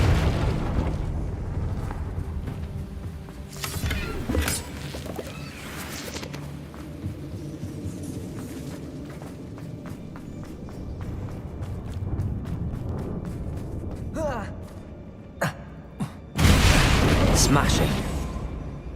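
Confringo blasting spell going off in Hogwarts Legacy, a layered explosive burst over game ambience and ongoing speech, with a loud final blast near the end.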